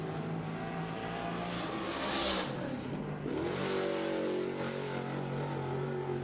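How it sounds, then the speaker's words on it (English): Big block modified race cars roar through a time trial run at Cherokee Speedway in Gaffney, South Carolina, engines revving loudly as one surges past, then dropping pitch and continuing to drone along the track. "the big block modifieds, out here for their time trial run"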